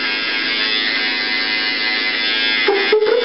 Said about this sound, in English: What you're gonna need to shave your head is shaver here to get the hair down as low as you can.